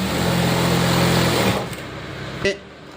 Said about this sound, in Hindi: फिर ऐसे करके लास्टिक को ऐसे रिंकल बना के फिर ऐसे सिलाई मारो